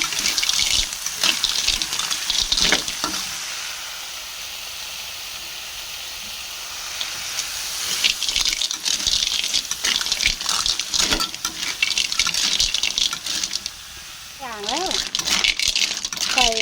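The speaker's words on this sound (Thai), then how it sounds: "แล้วก็ผัดหอยไปก่อน รอหอยสุกนะคะ" River snails stir-fried in a pan over an outdoor rural Isan cooking fire: steady, loud sizzling and watery bubbling with repeated scrapes and clatters, heard mostly under people talking.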